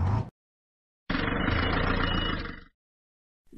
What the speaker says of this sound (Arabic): شاحنة